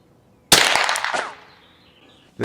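A single sharp .22 rifle shot from a DPG RIM-X firing SK High Velocity ammunition outdoors, a loud close crack with a short fading tail.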